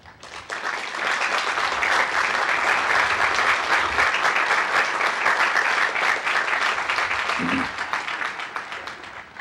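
Sustained applause from a large audience at a graduation commencement ceremony, steady and loud throughout with no break, tapering slightly near the end.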